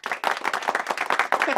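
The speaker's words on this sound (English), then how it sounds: "I'll throw in some applause in there." Applause added as a sound effect on a talk show, a dense burst of clapping that pulses in quick waves and fills the moment without any voices over it.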